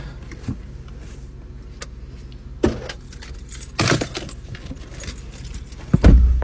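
Light metallic jingling of keys comes in brief bursts over a low, steady car-interior rumble, with a few louder handling knocks near the end.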